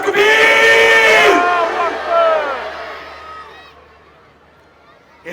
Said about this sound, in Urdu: ہاتھ اٹھائیے، نعرہ لگائیے، نعرہ تکبیر۔